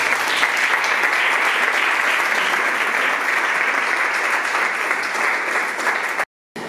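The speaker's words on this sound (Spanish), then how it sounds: "Demos un aplauso." Loud, dense audience applause welcoming a speaker at a cultural heritage conference, sustained without pause for several seconds before cutting off abruptly near the end.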